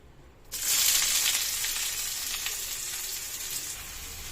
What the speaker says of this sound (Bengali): ঘিয়ের মধ্যে এবারে আমি পেঁয়াজ কুচি দিয়ে দেব